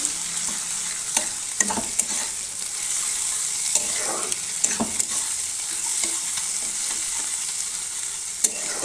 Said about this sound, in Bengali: ডিম ভুজিয়া বসিয়ে দিয়েছি তিনটে ডিম দিয়েছি